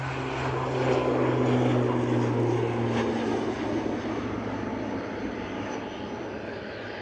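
A propeller plane's engines roar steadily at Edinburgh Airport, loud and droning with a low hum that fades slightly as the aircraft moves off, heard alone without talk.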